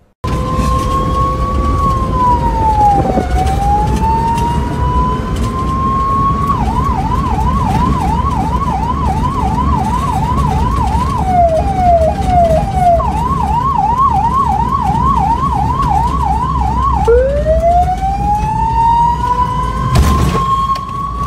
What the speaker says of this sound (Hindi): जिसकी वजह से ये सायरन बजाते हुए तेज रफ्तार से रोड पे दौड़ रही है।